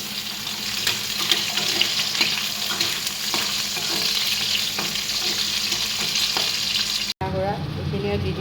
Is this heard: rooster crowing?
no